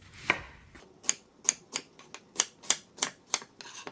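A knife chopping potatoes into big chunks on a board: about ten crisp, close chops in an uneven rhythm with short gaps between them.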